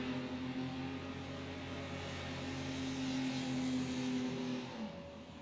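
Racing cars at a race meeting at Allerton sweep past on the last lap, a sustained engine roar with a rising and falling whine that fades slightly near the end.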